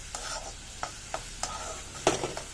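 Spices being sautéed and stirred in a pan for a pabda fish curry: a soft, continuous sizzle broken by six or seven quick spoon scrapes, quiet and close, with no talking.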